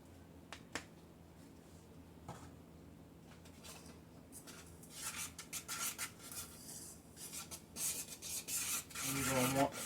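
Baking soda and baking powder are stirred together in a bowl: soft scattered scrapes and rubs that grow busier and louder toward the end.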